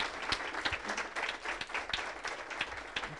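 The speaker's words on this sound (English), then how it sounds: "I'd like all of us to stand up and to give a round of applause to Ory." A fireside chat audience gives a standing ovation, a sustained crowd of hands clapping in a dense, continuous wash with a few louder claps standing out.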